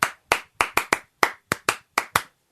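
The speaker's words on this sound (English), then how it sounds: "you have to clap it back whenever I do it" Ten sharp hand claps in an uneven rhythm, close and loud, with brief silences between them and no voices.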